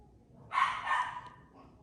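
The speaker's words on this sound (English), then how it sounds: "I don't know if you can hear my dogs down there, but they're fighting" Dogs fighting and barking somewhere below, heard from a distance: a faint, muffled burst of snarling barks about a second long, with no speech over it.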